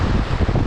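Strong wind buffets the microphone while big waves wash and churn around a fishing boat in rough, stormy conditions, a loud continuous roar filling the short stretch.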